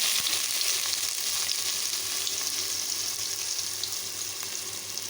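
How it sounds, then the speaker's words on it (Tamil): Mustard seeds and onion frying in oil in a pan for drumstick leaf soup; a close, continuous hissing sizzle with scattered small pops, easing slightly in loudness over the few seconds, no voices. "கடுகு நல்லா வெடிக்குது."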